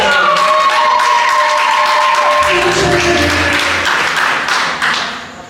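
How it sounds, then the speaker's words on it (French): Audience applause at a graduation ceremony, loud sustained clapping from a crowd mixed with voices and a lingering tone, fading toward the end. "Nous pouvons applaudir pour notre Seigneur"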